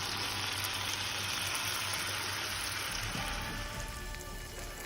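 Scallops searing in a hot cast iron skillet give a steady, dense sizzle like hard rain, holding even throughout and easing slightly near the end.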